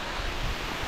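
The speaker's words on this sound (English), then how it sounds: "it's absolutely peeing it down" Heavy rain pouring down on open heathland in the South Downs, a dense, steady broadband hiss with no talking.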